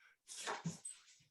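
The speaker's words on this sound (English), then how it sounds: "Yeah, that's my dog" A dog in a room makes a brief snuffling, sneeze-like noise during a video call, a short soft burst close by.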